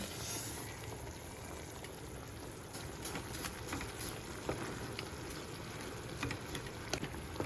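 Water bubbles and sizzles softly in a pan as fried vermicelli goes in for semiya upma, a faint continuous hiss with occasional small pops and stirring clicks.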